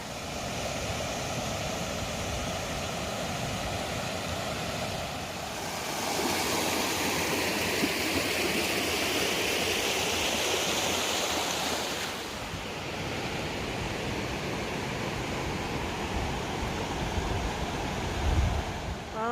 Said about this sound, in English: it's pretty near constant waterfalls